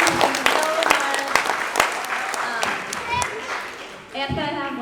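Audience at a small school theater show claps in a steady, dense round of applause with a few sharp individual claps standing out, fading as a voice begins speaking at the end.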